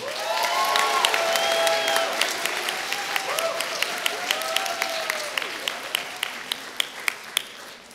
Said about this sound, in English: let's have another great round of applause for all of our international graduates.